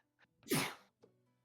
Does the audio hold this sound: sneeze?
yes